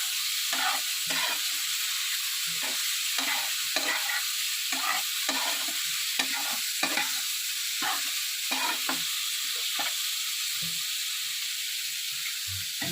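Bain, a river fish coated in chili powder, salt and turmeric, is stir-fried in a pan. It gives a constant hissing sizzle broken by regular scraping stirring strokes, heard close with no talking.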